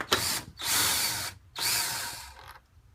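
Power tool, likely a drill or impact driver, backing out headlight bolts on an M7 Speed MINI Cooper, heard as two loud sustained bursts of whirring with a short pause between, close up and alone.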